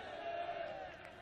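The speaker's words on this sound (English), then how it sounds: "that's brought some chants from the crowd" A distant crowd at a Last Man Stands cricket final chants in a sustained, tonal roar, faint and heard only briefly.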